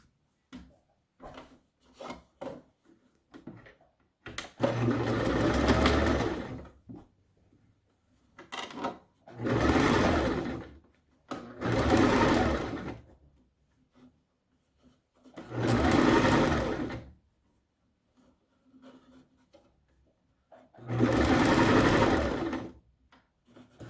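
A sewing machine stitches a fabric face mask in four long, loud whirring bursts of a few seconds each, separated by quieter handling and rustling of the cloth, close by with no talking.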